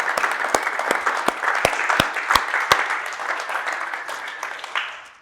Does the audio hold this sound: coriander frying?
no